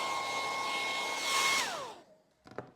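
A hair dryer blows steadily on a bottle to dry its paint, a close, airy whir with a faint whine that winds down as it switches off, followed by a brief clatter.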